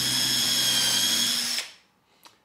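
A power drill whines at a steady high pitch for over a second and then winds down, followed by a brief clatter in the quiet.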